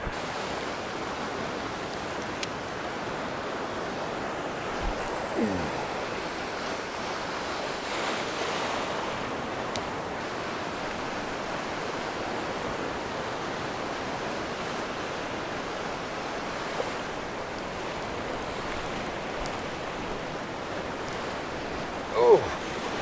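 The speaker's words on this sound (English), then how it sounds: "it's windy on this side" Steady wind rushing against the microphone on a pier by the sea, with waves and surf washing continuously in the background; no talking.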